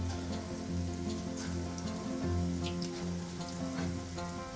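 Small dough balls deep-frying in a pan of hot oil, a steady, dense bubbling sizzle that holds evenly throughout with faint crackles on top.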